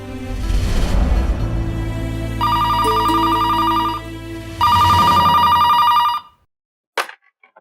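A telephone bell rings loudly in two long bursts over a low rumbling background, then stops, followed by a short sharp click.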